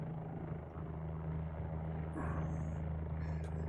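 Helicopter in flight at about 50 knots while circling a black tower among skyscrapers before landing, a steady close rotor and engine drone with a low thumping beat that holds throughout at even volume.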